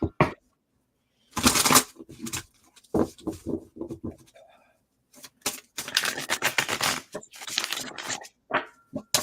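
Tarot cards shuffled and drawn from the deck, riffling and flicking bursts with taps and soft slides in between, close and crisp, alone with no voices.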